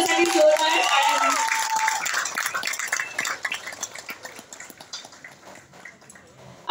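An audience claps at a music launch event: a dense burst of applause that fades gradually into scattered, thinning claps, with some background noise.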